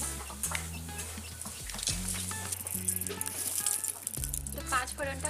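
Panch phoron spices crackling in hot mustard oil in a rustic village kitchen, sharp popping and spitting over a steady sizzle, fairly close.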